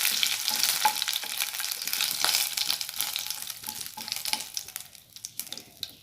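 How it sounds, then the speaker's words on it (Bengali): Dried chillies and bay leaves fry in hot oil in a pan, a continuous crackling sizzle with stirring scrapes throughout, fading slightly toward the end. "আর তেজপাতা একটু ভেজে নিলাম।"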